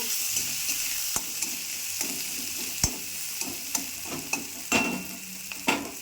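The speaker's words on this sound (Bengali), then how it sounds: "পেঁয়াজটা একটু লাল লাল করে ভেজে নেব।" Onion frying in oil for a pomfret curry, a steady close sizzle with occasional sharp ticks and scrapes from stirring, running alone without talk.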